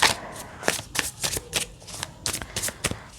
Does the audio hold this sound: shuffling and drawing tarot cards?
yes